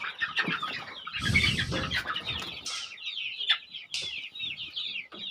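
Free-range country chickens cluck and squawk in a busy overlapping chorus, close and steady, with bursts of wing flapping and scuffling as the flock jostles out of the coop.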